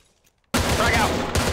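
Dense gunfire and shooting through a building in the military shooter ArmA 3, starting abruptly after near silence and continuing loud and sustained, with rapid overlapping bursts and heavy low-end booms.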